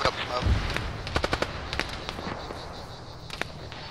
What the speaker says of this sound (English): Sounds like heavy cannon northwest.